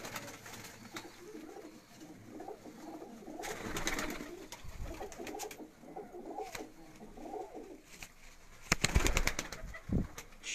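Lakha pigeons of the Nankana Sahib breed coo softly in repeated low, throaty bursts, with occasional wing flaps and scuffling, faint and fairly close, no talk over them.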